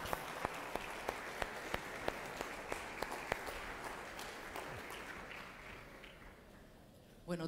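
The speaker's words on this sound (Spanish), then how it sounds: "Reciba con un aplauso de cariño, hermana Lichi Rusconi" Applause from a church congregation welcoming Sister Lichi Rusconi to speak during a morning service: a steady wash of clapping with sharper periodic claps standing out, fading toward the end as a voice begins.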